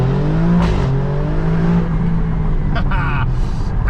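An Alfa Romeo Stelvio Quadrifoglio drives along a countryside road in the South Downs. Its engine holds a loud, steady drone with a slowly shifting tone and road roar beneath it, and a voice is faintly present.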